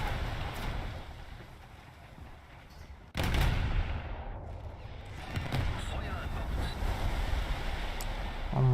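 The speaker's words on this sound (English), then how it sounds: "Another ammo explosion." A ship's ammunition explodes during a naval battle in War Thunder, bursting loudly mid-clip and followed by a long rushing roar and crackle over continuous sea and engine noise.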